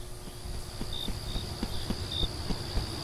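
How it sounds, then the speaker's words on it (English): Crickets chirp in short, high trills against a quiet night ambience, with soft, regular low thuds like footsteps going on underneath. "it's replaced with crickets and the usual night sounds"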